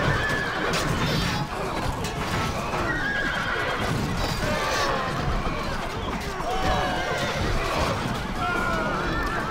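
Cavalry horses in a battle video game neigh and whinny again and again over thick, continuous galloping hoofbeats and battle noise, loud and dense throughout.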